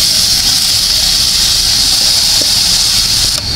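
Washed, chopped cabbage dropped into a hot pan gives a loud, steady, close sizzle, an unbroken hiss that holds for several seconds.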